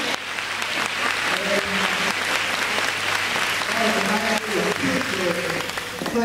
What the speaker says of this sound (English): Now give God a hand and clap of praise